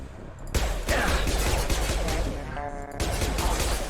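Loud bursts of gunfire in Mass Effect 2 combat, a dense volley followed by a short pause and another burst.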